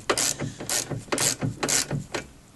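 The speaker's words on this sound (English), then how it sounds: "So I just like to put the nut on until the nylock is gripped" A nylock nut is run onto a drop link on a Renault Clio with a ratchet, giving a series of close, crisp clicking bursts in a steady back-and-forth rhythm, with no talking.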